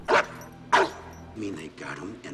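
Guard dog in a movie barking twice in sharp, close barks, followed by softer whining or muffled voices as the sound trails off.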